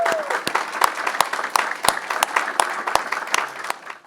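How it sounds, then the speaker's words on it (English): Audience applause for Dr. Wendy Chung at a rare disease research conference, a steady patter of many hands with sharp individual claps standing out, filling the room and fading slightly toward the end. "Please give a warm round of applause to Dr."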